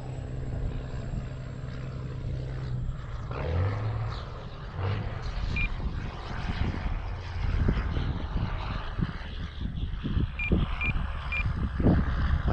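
A Dynam C-47 RC model warbird comes in to land into the wind, its twin propeller motors droning and shifting in pitch at middle distance over gusty wind noise, with no talk.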